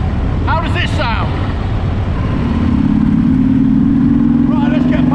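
A motorcycle cruising at 40 mph, captured by a GoPro Hero 7 fitted with a Windslayer mic: a steady engine drone and low wind rumble, with someone talking over it at the start and end.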